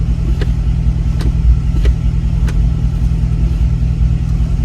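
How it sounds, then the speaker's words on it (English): The shifter lock on a C6 Corvette releases with several faint, sharp clicks when the brake is pressed. The clicks sit over the steady, loud rumble of the idling engine. "Press on the brake and I just hear the release."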